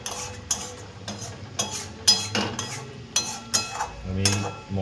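Potatoes stirred in a cooking pan for a cauliflower and potato curry, with repeated metal spoon scrapes and clinks against the pan in an uneven rhythm, close and fairly loud.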